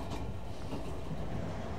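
A passenger train travels on rails past cornfields, its cabin filled with a continuous loud low rumble and soft clickety-clack of wheels, heard alone without voices.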